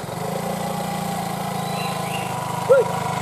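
A motorcycle engine idles steadily nearby with a low, even putter throughout, and a brief voice-like shout rises over it near the end.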